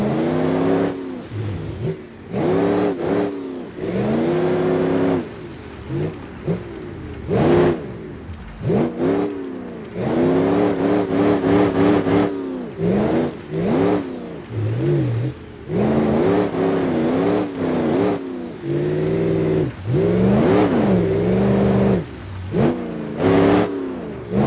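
A limousine engine in BeamNG.drive revs and accelerates hard through the gears in fifth, rising whines cut by repeated shifts and short drops in throttle, loud and close, with no talking.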